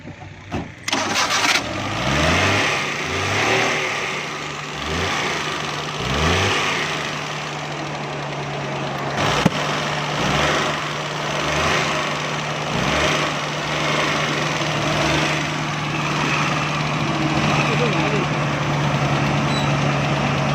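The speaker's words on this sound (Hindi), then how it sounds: "गाड़ी स्टार्ट करो।" A car that runs on gas and has a smoke and backfire fault starts up and keeps running close by, with a steady engine drone and rough low pulses throughout. Voices speak briefly over it.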